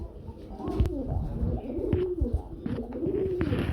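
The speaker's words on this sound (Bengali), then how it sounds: "লাল কালারের মধ্যে এক জোড়া রাসগোল্লা কবুতর পেয়ে যাচ্ছেন" Rasgolla pigeons coo close by in a series of soft, rolling, throaty calls that repeat through the stretch, with faint background noise underneath.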